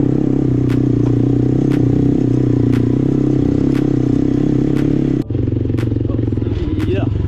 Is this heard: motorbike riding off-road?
yes